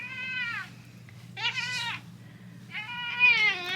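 A pet cat meows repeatedly indoors in a house, three drawn-out, rising-and-falling cries separated by short pauses, fairly close and alone with no talking.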